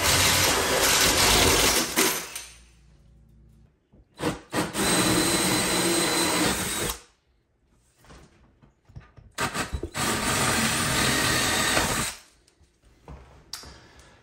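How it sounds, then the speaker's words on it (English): A power drill bores holes for mounting an over-the-range microwave, running in three loud whirring bursts of about two to three seconds each, separated by quiet pauses, with no talk. "I'll be able to drill my holes."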